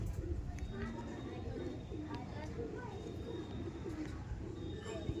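Andhra pigeons being handled give soft, low coos that sit quietly under people talking, against a constant background hum.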